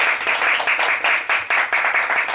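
A live audience at a Japanese enka singer's new-single release event applauds after a song: steady, dense clapping from a sizeable crowd that swells and dips in waves, with no voices over it.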